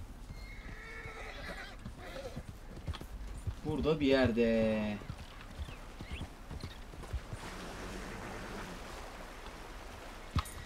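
In the Red Dead Redemption video game, a horse's hooves clip-clop steadily through most of the stretch, with a loud whinny midway, while someone speaks briefly over the game sounds.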